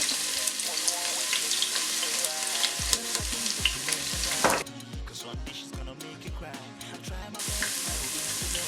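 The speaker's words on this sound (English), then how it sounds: "What you do is you add your onions, yeah? And you fry your onions on that oil." Chopped onions frying in red palm oil for Nigerian efo riro vegetable soup, a steady close sizzle joined by repeated scraping stirs of a spoon in the pot, with no talking.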